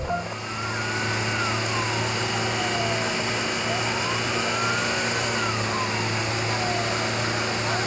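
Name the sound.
dump truck engine revving, toy video sound effect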